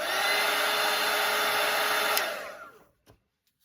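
A hair dryer blows steadily and loudly up close to dry watercolour paint, then winds down and cuts off, followed by a soft click and near silence.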